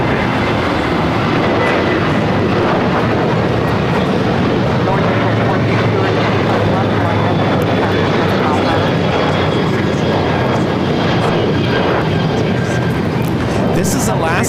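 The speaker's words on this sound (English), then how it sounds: "This is Alaska Airlines 1315 taking off to Portland, Oregon on the 737-700." Alaska Airlines Boeing 737-700 taking off from runway 25 left at LAX, a steady broad jet roar filling the whole stretch under ongoing talk and radio chatter.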